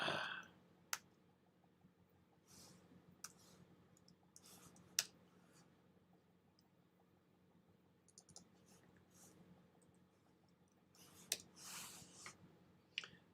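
Computer keyboard typing during a Colorado astronomy amateur radio net: sparse, quiet clicks and short bursts of keystrokes spread across a faint, steady hum, with no talking.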